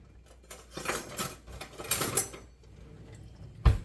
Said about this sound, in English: So while that's going, well, I'm going to stir it.